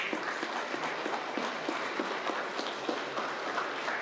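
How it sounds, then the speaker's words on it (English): An audience applauds steadily at a neuro rehabilitation healthcare talk, a dense even patter of many hands clapping at moderate level throughout. "Can we have a big hand of applause for the same?"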